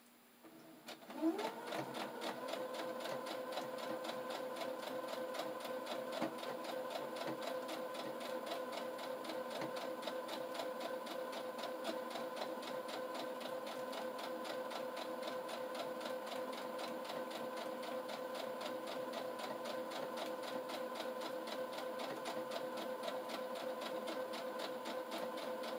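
A sewing machine stitches a fabric pouch with felt and Velcro, running in a steady, even whir for over twenty seconds after a brief start, fairly quiet and uninterrupted, with no talking.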